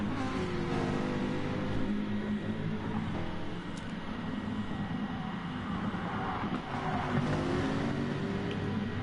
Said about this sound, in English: Hoping to hear the roaring engines of these machines thundering around the German landscape.